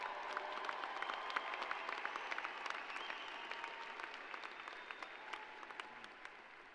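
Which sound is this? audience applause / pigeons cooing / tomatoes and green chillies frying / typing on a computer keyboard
audience applause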